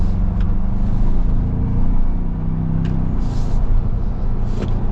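A 2025 Ford Bronco Sasquatch drives along with a steady, loud engine drone heard from the cabin, a continuous low rumble with no voices over it.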